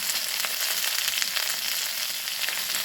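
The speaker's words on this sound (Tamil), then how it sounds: "அந்த கீரையை கொஞ்ச நேரம் வதங்க விடுவோம்" Manathakkali greens sauté in a hot pan for chutney, giving a steady, close hiss of frying that carries evenly throughout with no voices.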